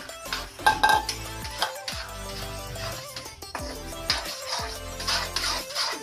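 Mawa being stirred into sugar syrup in a metal pot for poppy-seed burfi, with a spoon scraping and clinking against the pan in uneven strokes, fairly close and steady over a continuous background hum.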